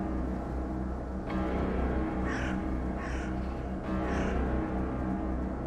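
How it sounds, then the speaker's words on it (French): Crows circle a farm barn over the fields, giving a few distinct caws at intervals over a steady low background hum. "des corbeaux avaient envahi ses champs, dont certains tournoyaient autour de la grange"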